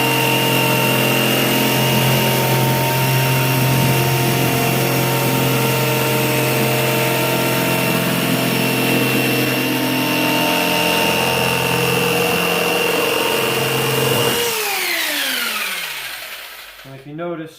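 A power tool cutting PVC board for teardrop camper doors whines loudly and steadily at close range, then winds down with a falling pitch as the cut ends.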